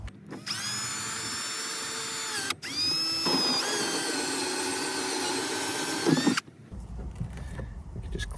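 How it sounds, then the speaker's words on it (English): A power drill bores a hole through plastic during a Suzuki Jimny accessory harness install, its whining motor running in two long close bursts with a short pause between them, then stopping, followed by quiet handling noise. "So we'll start by drilling our first hole."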